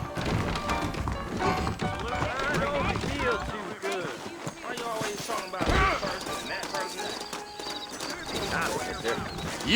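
Horse hooves clip-clop steadily in Red Dead Redemption Remastered on PS5 as saddled horses move out front in New Austin, a continuous rhythm mixed under voices and game ambience.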